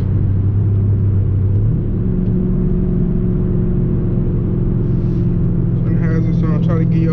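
A Chrysler 300C engine rumbling loudly from inside the car, its pitch dropping and settling into a steady drone as it downshifts, with someone briefly talking near the end.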